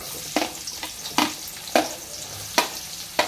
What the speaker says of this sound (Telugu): ఒక 3 టేబుల్ స్పూన్లు ఆయిల్ వేసేసుకోండి. అంటే మనం వండుకున్న క్వాలిటీని బట్టి వేసుకోండి. ఉల్లిపాయలు వేసేద్దాం ముందు.